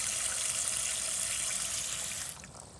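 Water rushes steadily into a 1980 Eljer Emblem toilet tank, a close, even hiss that suddenly drops off near the end as the fill slows.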